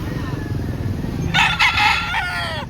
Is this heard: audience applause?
no